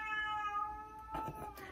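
A single close meow from an elderly cat, long and wavering, rising into a strained, yowling tone at the end.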